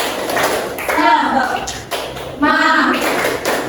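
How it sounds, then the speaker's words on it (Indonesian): A school class performs a rhythmic group clap routine, sharp patterned hand claps mixed with children's voices chanting together in bursts, loud and close in a classroom. "sekarang tepuk semangat ya, biar kita lebih semangat lagi untuk presentasinya ya"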